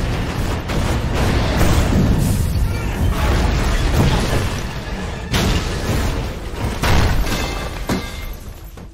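An office building explodes in a film scene: loud, sustained booming blasts and crashing debris roll on for several seconds in repeated heavy surges.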